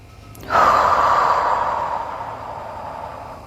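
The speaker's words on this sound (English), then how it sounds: "Inhale and then exhale." Deep breathing during a pilates exercise: one long, close exhale starts abruptly and fades slowly over several seconds, with no voice.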